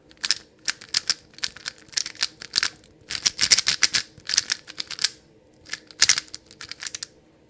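Quick bursts of soft plastic clicks from a speed cube lubricated with SOLAR lube being turned, close and fairly smooth, with short pauses between sequences.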